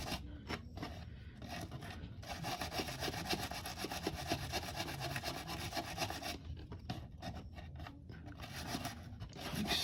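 Dirt caked on a Teflon washer from a Daiwa GS 2000 fishing reel is scrubbed with quick, steady rubbing strokes, close and faint, continuing throughout with no talking.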